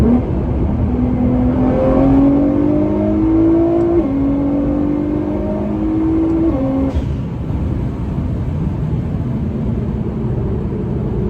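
Nissan GT-R accelerating hard from inside the car, engine pitch climbing through several rapid gear changes with short drops between shifts, loud and close, then settling into a steady roar.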